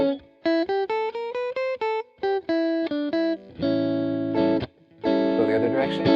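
Single notes on an electronic keyboard or synth step through chromatic passing tones over a one-chord vamp, short detached notes at first, then a few longer sustained tones and a thicker held chord, clear and close with no talking.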